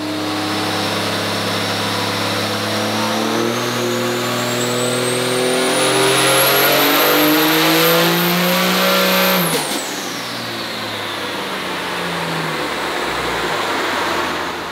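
A Cummins 6.7L diesel truck with a G56 transmission makes a dyno power run. The engine climbs steadily in pitch through the gears, roars loudly at full power, then abruptly lets off and winds down.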